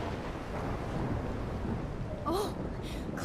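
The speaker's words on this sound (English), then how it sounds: "Storm still is happening though." Steady heavy rain and rumbling thunder of a thunderstorm in the Life is Strange video game, a constant wash of rainfall with a few brief brighter bursts near the end and no voices.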